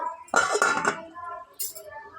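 A metal lid is set on a pot of simmering bottle gourd pulusu, giving a short clattering clink followed a moment later by a lighter tap, close and alone.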